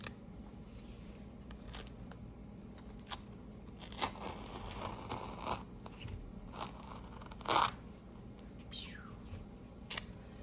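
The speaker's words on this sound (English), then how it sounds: "we're gonna peel our tape again." Painter's tape peels off a beach landscape painting in a series of quiet, scattered rips and crackles, with one longer tearing stretch, in a calm room with no talk.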